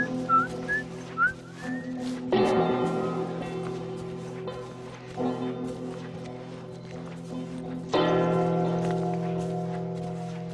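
A character whistles a light tune in The Last of Us on PS3, faint and brief at the start, then gives way to a steady game soundscape with louder bursts of activity.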